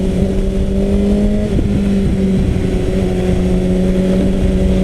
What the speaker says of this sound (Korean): 이 4기통 바이크에 배기가 돼 있으니까 진짜 귀가 간질간질한 게